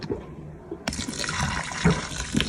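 Warm water poured onto raw meat in a pot before boiling for a budget soup, a steady splashing pour starting abruptly and running on loudly to the end, close and alone.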